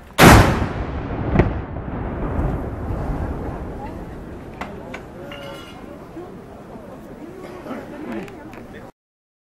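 A ceremonial cannon or gun fires on a spoken command at a Geneva Restoration commemoration: one sharp loud blast at the start, a smaller report moments later, then a long rumbling decay under crowd murmur.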